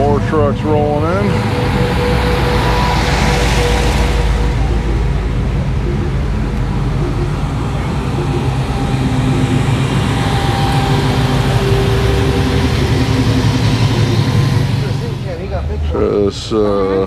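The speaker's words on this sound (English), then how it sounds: "Trucks rolling in." At the Grand National Truck Show in Pomona, trucks roll in with a steady, low rumble of idling engines nearby, while someone talks over the continuous engine drone.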